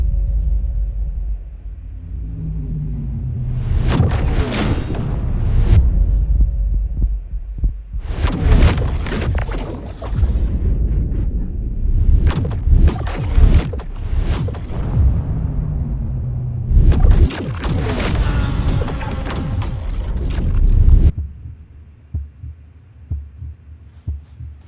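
Sound effects for a motorsport edit play alone: deep booming impacts, rumbling swells and airy whooshes in dense bursts over about twenty seconds, loud and close, fading to quiet at the end.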